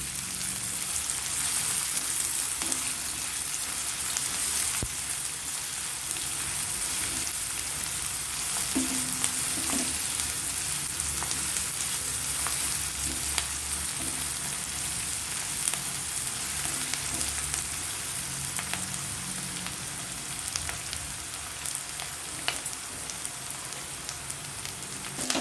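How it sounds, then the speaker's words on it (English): Onions sauteing in a pan for a potato and fenugreek curry: a steady, close frying sizzle runs throughout, with occasional soft scrapes and clinks of stirring. Nobody speaks. "And saute it nicely until the color slightly changes."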